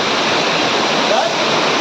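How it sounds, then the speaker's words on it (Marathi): A village waterfall roars close by as a loud, steady, unbroken rush of water that fills the whole moment. "हा धबधबा जवळून हा बघा हा कसा जातोय म्हणजे हा धबधबा आहे असा"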